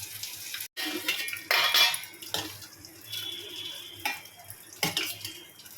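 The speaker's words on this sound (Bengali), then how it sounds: "চলুন এবার ফটাফট ভাত বেড়ে ফেলি।" Cooked rice is served onto a plate in a small home kitchen: a few light clinks and scrapes of a serving spoon against a metal plate and pot, close and moderate, with brief quiet gaps between strokes.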